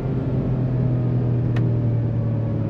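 Ford Ranger Raptor pickup engine giving a steady, deep rumbling roar with a strong low hum, close and continuous and alone, with one brief high click partway through.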